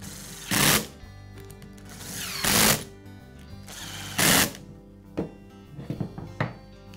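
Cover screws being fastened on a Metabo angle grinder during bevel and pinion gear replacement, heard as a few loud, short bursts of a power screwdriver or drill, separated by quieter handling clicks and taps, close up with no talk.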